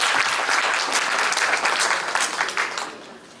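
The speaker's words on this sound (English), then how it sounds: "just give them a round of applause as I call them up" Audience applause at a scholarship award ceremony, a steady wash of many hands clapping close and fairly loud, holding for a few seconds before thinning slightly toward the end.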